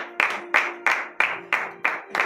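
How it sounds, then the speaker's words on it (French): Congregation at a Beninese Saturday morning prayer service in Comè breaking into loud shouts of acclamation in repeated bursts, each swelling sharply and fading, about six surges in quick succession. "donnez de vives acclamations à l'Éternel"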